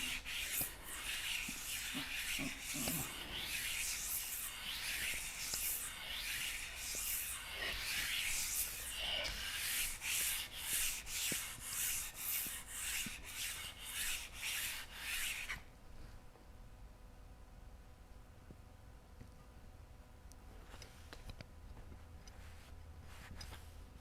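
A hand plane's sole is rubbed back and forth on abrasive to flatten it, giving a rhythmic series of close, scratchy sanding strokes that stop abruptly, leaving faint handling noises.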